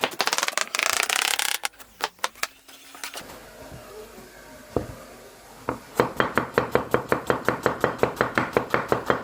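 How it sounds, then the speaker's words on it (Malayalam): Onions being chopped fairly thick with a knife on a board for a Kerala toddy-shop style pork roast, a steady run of crisp, close knife strikes building into a quick even rhythm after scattered clatter. "അത്യാവശ്യം കനത്തിൽ അരിഞ്ഞാൽ മതി കേട്ടോ സവോള"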